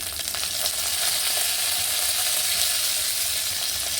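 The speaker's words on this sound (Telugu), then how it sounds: "జీలకర్ర వేస్తున్నాను కరివేపాకు వేస్తున్నాను" Cumin seeds and curry leaves crackle in hot oil as a dense, even sizzle with faint spitting, steady and close for several seconds without any voice.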